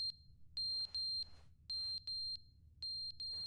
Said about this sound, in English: That's a fire alarm.